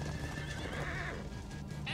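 Horses in Minecraft: Story Mode, a loud whinny over busy hoof clatter, with game sounds around it.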